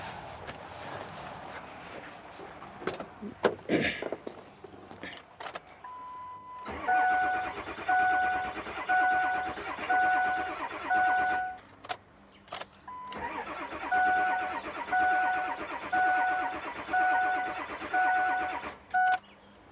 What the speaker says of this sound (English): So let me crank the engine one more time.